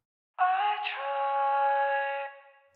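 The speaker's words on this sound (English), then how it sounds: "gets rid of all those additional frequencies and makes it sound like a telephone." A sung ad-lib vocal filtered to sound thin and boxy like a telephone, a single sustained note of about two seconds with a slight pitch bend near its start, fading out cleanly.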